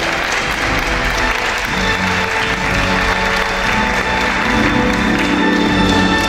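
Loud, dense audience applause at the Miss Oise 2020 pageant results, a steady roar of many hands clapping with a few cheers, continuing throughout and swelling slightly near the end.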